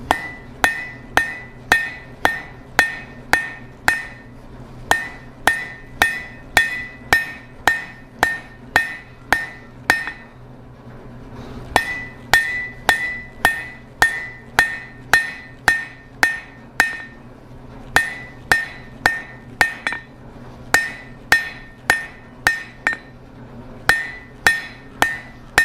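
Blacksmith hammer striking hot steel to draw a taper for a center or round punch on an anvil, a steady run of sharp ringing blows with a short pause midway, close and loud with no talk.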